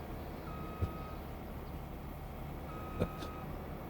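A farm vehicle backing up along a field in Farming Simulator 25 gives two clear reversing beeps, spaced a couple of seconds apart, over a steady engine hum.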